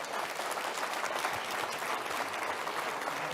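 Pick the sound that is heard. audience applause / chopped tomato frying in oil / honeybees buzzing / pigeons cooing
audience applause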